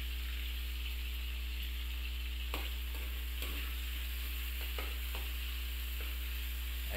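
Garlic, onion, tomato and chili sautéing in very hot oil, a steady close sizzle with a few sharp clacks of a utensil stirring against the pan, no voices.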